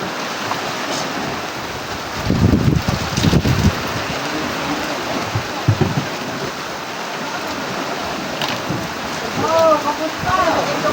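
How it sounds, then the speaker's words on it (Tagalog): Steady rain patters close by during dorado fishing, with a person talking over it in bursts and some louder splashes and knocks. "maghapon na namang ulan"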